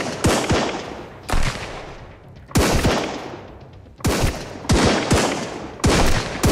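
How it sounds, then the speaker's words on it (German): Gunfire rattles in bursts in the survival video game Sunkenland, several loud volleys of rapid shots with short gaps between them, fired from a defense tower. "Wir knallen von hier oben."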